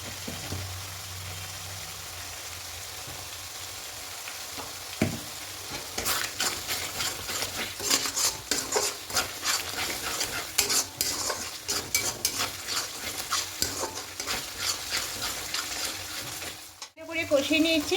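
Masala for chicken kosha is stir-fried in a pan with salt and water added, a steady close sizzle broken by repeated scraping and clattering strokes of the spatula, with a sharp knock near the end.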